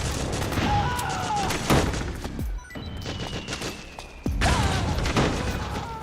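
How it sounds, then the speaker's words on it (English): Rapid bursts of automatic gunfire and explosive impacts from a Metal Gear Solid 4 firefight, loud and dense throughout with brief pauses, mixed with game effects and shouted commands. "Suppressing fire!"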